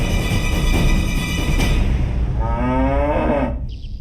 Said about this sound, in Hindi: आपने सुरीली भैंस को हमारे महिष को बहकाने के लिए लगाया था